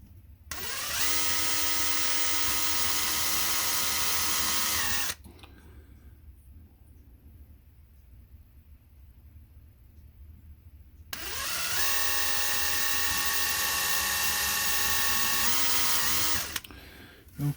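Small power drill boring into the valve cover and head of a 1:25 scale 1969 Dodge Charger model kit, two steady high whirring runs of several seconds each, close up, with a quiet gap of faint handling between them.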